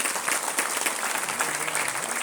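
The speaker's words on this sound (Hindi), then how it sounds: "एक बार जबरदस्त तालियां हो जाएं।" Audience clapping at a live Hindi-speaking business gathering, a dense, steady wash of applause that fills the whole moment without pause, fairly close and even in loudness with no speech over it.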